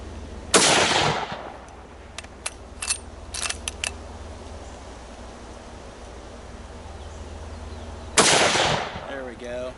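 A MAS 36 bolt-action rifle fires two sharp, loud shots several seconds apart at an outdoor range, with softer clicks and rattles of bolt handling between them.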